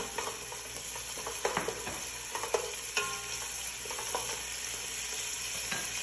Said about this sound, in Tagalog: Lagay ko na rin itong half nitong coriander leaves. Mix ko siya.